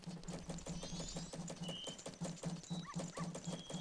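A dog in the video game The Legend of Zelda: Majora's Mask gives quick, evenly spaced yaps and whimpers over a busy game soundtrack.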